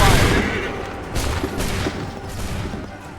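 Musket volley gunfire in the Assassin's Creed III video game, a ragged burst of overlapping shots with scattered follow-up cracks and booms.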